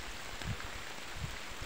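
Rain falls over a Thai farming village in the paddy-field countryside as a steady, even hiss, with a couple of soft low thumps and no talking.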